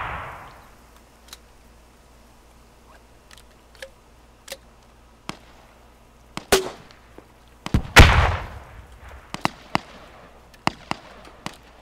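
Gunfire in the military shooter game Squad: scattered sharp single shots, some distant and some close, with a louder burst of cracks near the middle against a low steady background.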